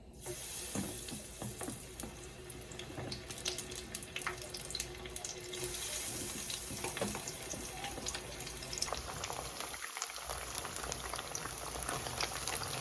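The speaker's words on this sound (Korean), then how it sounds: "양파도 아주 노릇노릇하게 잘 튀겨지네요" Steady, dense sizzling and bubbling of onions deep frying in hot oil, continuous and close throughout, with occasional crackles.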